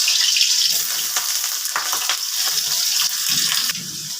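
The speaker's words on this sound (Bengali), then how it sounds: "প্রথমে একটু আলু ভেজে নিচ্ছি।" Potatoes frying in hot mustard oil in a pan give a steady, close sizzle with bubbling crackle and occasional scraping stirs throughout.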